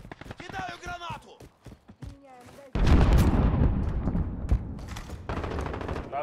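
Voices call out over sparse shots in a Call of Duty: Modern Warfare multiplayer match, then a grenade explosion bursts in loud and sudden, followed by a heavy, rumbling wash of gunfire and debris.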